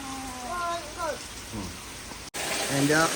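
Heavy rain pours steadily during a flood of the Ambika River, a continuous broadband hiss with a brief dropout near the end, while a voice talks over it throughout.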